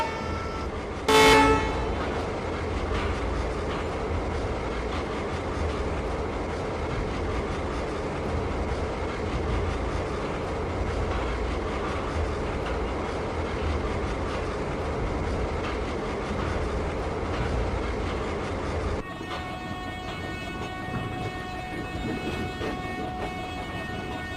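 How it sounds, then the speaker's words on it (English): Steady, heavy rumble of a WDM 3A diesel locomotive engine throughout, with a short horn toot near the start; no talking. "Enjoy the chugging sound of Pune WDM 3A locomotive."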